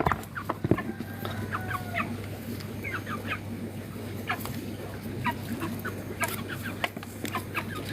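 Backyard chickens at a small home farm clucking at feeding time, with scattered overlapping clucks and calls over a steady low hum, moderately close and fairly soft, with no talking.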